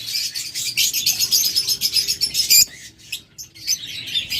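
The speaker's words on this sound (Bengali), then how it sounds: "এটা হলো লুটোনো ফিশার" A pair of lutino Fischer's lovebirds chirp loudly and close up in a continuous rapid stream of shrill tweets, with brief pauses and a faint wing flutter, no talking.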